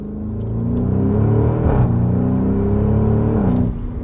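A 2024 Porsche Cayenne Turbo Coupe with a 729 hp V8 revs up, its deep rumbling engine note swelling and holding loud and close, with a brief throttle blip midway, then easing off at the end.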